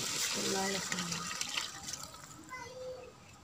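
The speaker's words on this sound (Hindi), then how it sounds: "अब हम इसमें शामिल करेंगे पानी।" Water splashing and pouring steadily into a container, with a voice talking over it and some clattering in the background.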